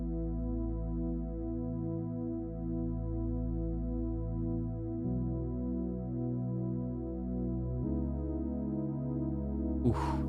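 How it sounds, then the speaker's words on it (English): Oberheim Matrix 6 vintage synth played as a mono pad, a sustained harmonic tone with shifting sustained chords changing twice, steady and loud, ending on a brief bright transient. "It's a mono synth,"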